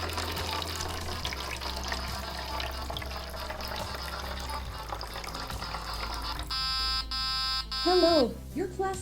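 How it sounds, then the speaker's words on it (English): Classic milk tea pours steadily from a LEGO Mindstorms boba machine into a cup, a running liquid stream under a steady motor hum. Near the end a tonal electronic buzz sounds and a voice speaks. "Pouring classic milk tea for 10 seconds."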